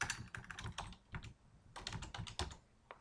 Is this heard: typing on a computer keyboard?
yes